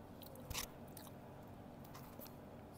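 Crunchy konu snack being bitten and chewed close up, a few quiet crisp crunches scattered over near silence.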